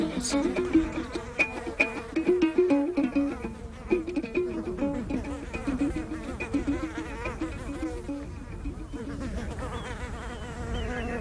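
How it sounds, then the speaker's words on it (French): A locust swarm near Bogué on the Senegal River gives off a dense, continuous insect buzzing and whirring that fills the whole stretch, loud and steady with shifting tones. "On vient de repérer un essaim."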